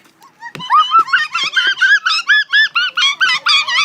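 A voice imitates a kookaburra's laugh with a rapid run of loud, high, chuckling whoops that build in a rhythmic cackle, preceded by a few soft knocks.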